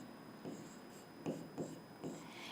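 A teacher writes on a board in several short, faint scratching strokes spaced at an even pace, close by, with a quiet room hum and no talking.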